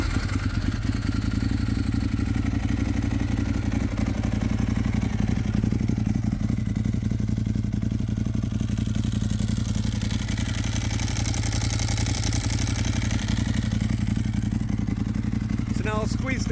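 A 2008 Ducati 1098 Superbike engine runs steadily at idle, a close, loud, lumpy twin-cylinder throb with mechanical clatter, and someone talks over it throughout.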